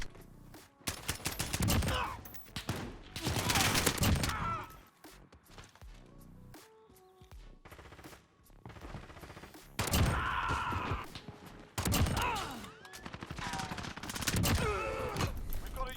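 Suppressed M4 rifle fire in the video game Call of Duty Modern Warfare comes as scattered bursts of muffled shots among footsteps, movement and other game sounds, in an irregular rhythm.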